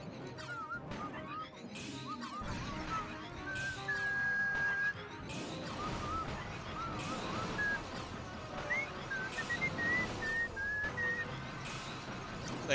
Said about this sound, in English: if anything, you'll just hear me whistling